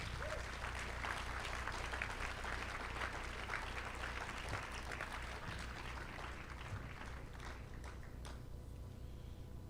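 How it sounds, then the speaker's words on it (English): Steady applause from a crowd at an evening gala in St. Louis fills the whole stretch, dense and even, tapering slightly at the very end. "Let's give them all another round of applause."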